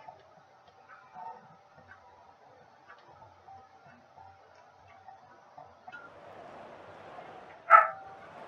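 A pet dog barking inside a house, faint and distant beneath quiet tonal background sounds, with one louder, sharper bark near the end.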